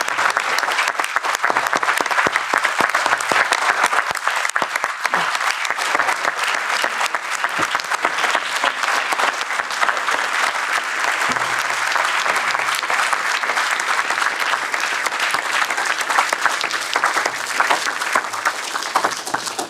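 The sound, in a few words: audience round of applause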